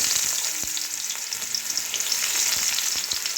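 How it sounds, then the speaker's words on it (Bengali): Onions frying in hot oil in a wok, a bright, dense sizzle up close with occasional sharp ticks and stirring scrapes, steady throughout. "এবারে পেঁয়াজটা ভেজে নিচ্ছি।"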